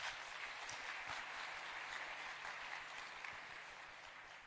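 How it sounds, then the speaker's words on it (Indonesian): Audience applause, a quiet and distant wash of many hands clapping steadily, slowly fading toward the end. "Boleh tepuk tangan ya semuanya."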